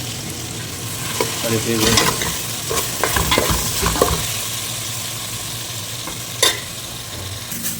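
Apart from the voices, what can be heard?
potatoes, chicken, tomato and ginger garlic paste frying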